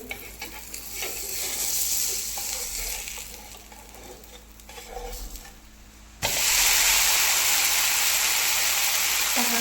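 A Davangere butter dosa cooks on a hot pan with a soft sizzle and scraping. Partway through comes a sudden loud rush of hissing sizzle as it is flipped onto the pan, and the hiss then continues steadily.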